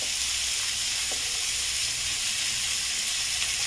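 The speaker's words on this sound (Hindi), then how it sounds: "प्याज को मैं चारों तरफ फैला दी हूँ। इसे भी मैं 2 से 3 मिनट अच्छी तरह भून लेती हूँ।" Sliced onion sizzles steadily in a hot pan of oil for a paratha filling, a continuous close hiss and crackle with no voices.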